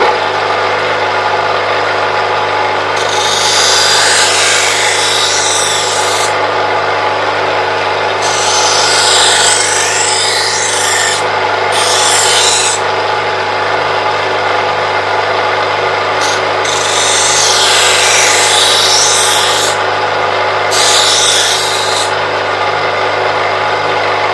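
A bench grinder motor hums steadily while a metalworking tool's blade is pressed against the spinning grinding wheel in several rasping bursts of a few seconds each.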